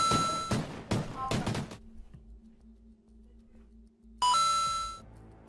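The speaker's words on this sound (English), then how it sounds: "I don't know, the doorbell ring." A doorbell rings during a live stream, giving several loud bright chimes at the start. After a quiet stretch with a low hum, one more chime sounds near the end.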